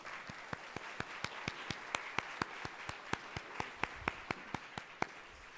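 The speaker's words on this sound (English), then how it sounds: "let's give them a round of applause." A Columbus Metropolitan Club audience gives a round of applause, a faint sustained wash of clapping with one nearby pair of hands striking sharply in a steady, even beat.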